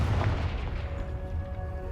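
Confringo, an explosive fire spell in Hogwarts Legacy, lands as a deep booming blast with a crackling burst on top, then a short rumbling tail, loud and close.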